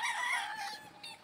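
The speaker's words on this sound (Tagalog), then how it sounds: "isa-isa munang tinitingnan ni Jayfern ang mga manok sa cording area" Chickens in a farm holding area, with a rooster crowing and hens clucking together in a close, continuous burst of calls.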